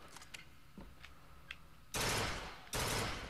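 A burst gun fired in Bioshock Infinite, two loud close bursts of rapid shots a second apart after a stretch of quiet ambience with faint clicks.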